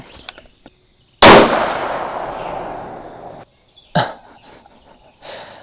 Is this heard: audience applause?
no